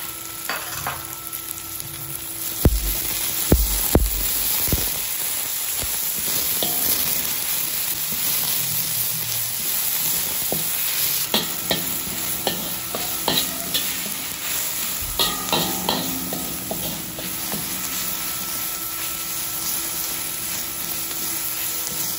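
Onion and garlic sizzle steadily in a hot pan, a close, continuous frying hiss broken by occasional clacks and scrapes of a utensil against the pan.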